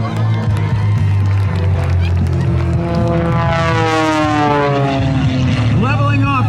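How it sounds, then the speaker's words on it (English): An aerobatic propeller plane with a Hartzell propeller flies a torque roll at the Blue Angels Homecoming Airshow, its loud engine drone rising and falling in pitch as it climbs and swaps ends, while an announcer talks over it. "into a torque roll where he hangs it on the Hartzell propeller, backs it up, swaps ends"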